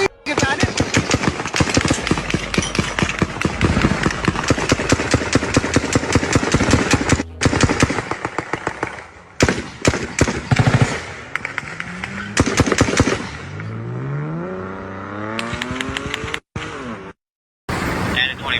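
Rapid bursts of gunfire from a drive-by shooting in Florida crack out in long strings, loud and close, with an engine roaring underneath and brief gaps of silence toward the end.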